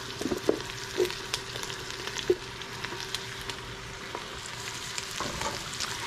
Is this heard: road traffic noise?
no